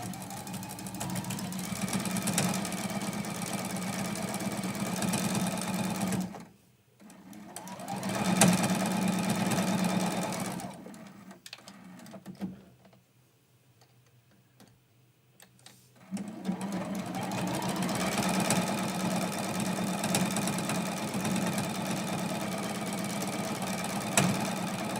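A sewing machine stitches a quilted mug rug in long, steady runs of rapid mechanical whirring. The stitching stops twice for short breaks, with a longer quiet gap near the middle, then runs again at full speed.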